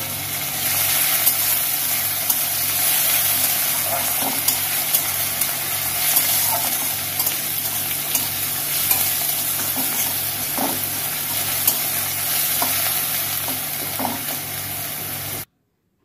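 Onion and garlic frying in a pan while being stirred: steady sizzle with occasional scraping stir sounds throughout, moderately close, no talking.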